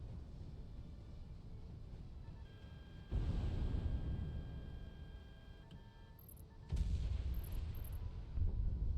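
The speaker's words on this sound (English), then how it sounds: "Radar lock. Missile on the way." In the flight combat game Project Wingman, a missile launches with a sudden loud whooshing roar over a low rumbling engine drone, and a second launch blast follows a few seconds later, with brief high beeps between.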